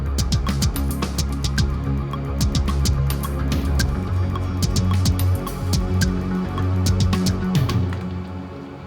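Electronic remix verse built for a remix challenge, with a dense continuous mix of steady bass tones, rhythmic percussive clicks and bright high hits, playing loud and unbroken without any voice.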